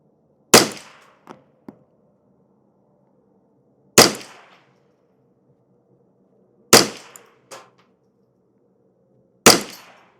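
A rifle fires CCI SV ammunition in four sharp, close shots a few seconds apart, each trailed by faint metallic clinks, with quiet between the shots.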